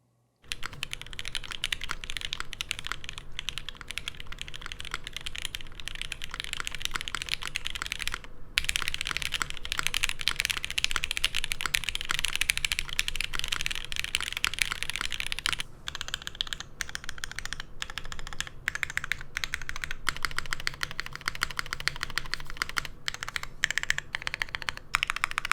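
A modded mechanical keyboard is typed on continuously at close range, a rapid stream of clacking keystrokes with occasional brief pauses and heavier thocks, alone without talk.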